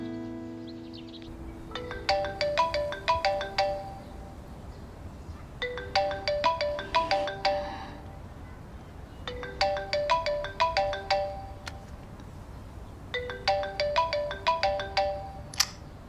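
A mobile phone ringtone rings in four repeated bursts of bright melodic tones, each burst a rapid cascade of notes separated by short pauses, fairly clear and present with no talking.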